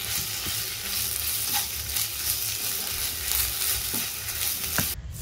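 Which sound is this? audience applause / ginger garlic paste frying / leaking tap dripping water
ginger garlic paste frying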